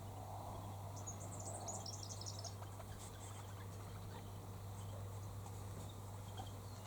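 Rosellas calling somewhere behind the listener in an acacia tree setting, a short burst of bright, high chattering whistles early on, moderately faint over a steady low hum, with scattered faint bird and insect sounds afterward.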